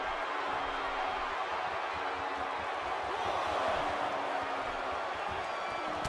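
A steady, dense arena crowd roar from the WWE 2K18 wrestling video game, set in a Des Moines arena, runs unbroken at moderate level with faint thuds and murmurs inside the din.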